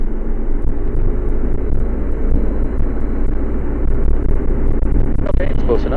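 Engine of an RV-12 light aircraft held at a steady run-up of about 4,000 RPM on the ground, a loud continuous drone with wind buffeting, and voices talking over it.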